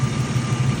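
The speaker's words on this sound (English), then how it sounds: "You really feel the car struggling to stay on sometimes, or the idles is real low with the AC on." A 1974 Dodge Duster engine idles low and steady with the AC running, a rough, rumbling drone that throbs slightly as it struggles to stay running, heard up close with no talking.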